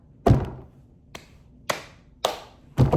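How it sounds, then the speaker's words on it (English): Hands clapping in a repeating pattern, four or five separate sharp claps spaced irregularly across a few seconds, close and clear against a quiet background. "a pattern can be heard in sounds like clap, clap"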